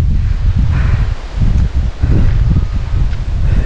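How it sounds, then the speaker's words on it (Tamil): Wind blows steadily through the leaves of a dense forest, making a loud, continuous rustling with gusty swells and heavy low buffeting on the microphone. "அப்போ காற்று அடிக்குதுங்க"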